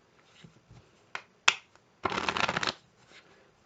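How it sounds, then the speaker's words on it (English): Playing cards are worked through a strip-cut false shuffle: a few sharp snaps and taps as the deck is handled, then a dense half-second riffle flutter, close and clear, with quiet handling afterward. "And that's a false shuffle."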